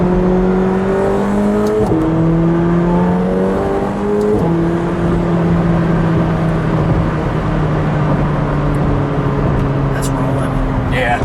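A 2018 McLaren 720S drives at steady speed with a smooth, humming engine note that shifts up through gears, cabin wind and road noise beneath; a voice talks faintly.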